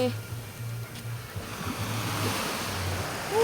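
Sea waves wash against a shore in a steady, rumbling surge, with wind noise buffeting the microphone and a voice faintly present underneath.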